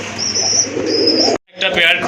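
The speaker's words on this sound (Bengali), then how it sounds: "একটা পেয়ার খুবই তেজি কবুতর" Satin fancy pigeons cooing near at hand, with soft repeated coos and chirps that stop briefly and then resume.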